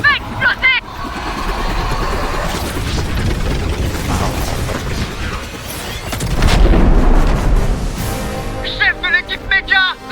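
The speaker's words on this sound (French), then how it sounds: "Le cube va exploser!" In Fortnite, a cube explodes during a live event with a heavy, rumbling boom that swells near the end, over a dense, noisy game soundscape with warbling electronic tones at the start and finish, and voices talking beneath.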